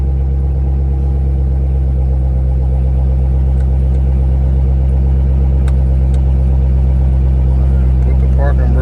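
Car engine idling steadily right after being started, a used Corvette Z06 at a Carmax dealer auction, with a loud, close, continuous low rumble and no talking over it.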